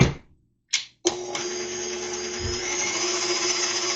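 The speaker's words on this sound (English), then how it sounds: "So we're going to use the whisk on the KitchenAid." A KitchenAid stand mixer whisking a banana mousse starts after a couple of short knocks, then runs as a steady loud whir that continues to the end.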